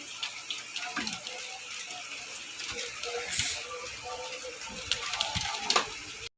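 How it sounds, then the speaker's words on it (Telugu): Wind-blown rain splashes steadily onto a balcony and into a water-filled plate, a continuous patter with scattered louder drips, close by. "వర్షం అయితే స్టార్ట్ అయింది గాలి కూడా ఇటువైపు వేయటం వలన వర్షం అంతా కూడా ఇలా బాల్కనీలోకి వచ్చేసి"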